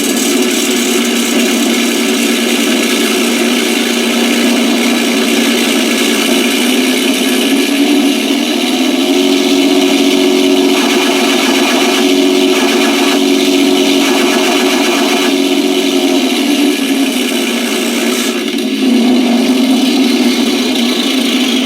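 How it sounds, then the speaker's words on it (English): An RC model aircraft sound module plays a simulated engine start-up, settling into a steady droning run that holds for over twenty seconds with slight surges, loud and continuous with no talking. "let's start up the engine here, and then I'll do the machine gun as we're up and running"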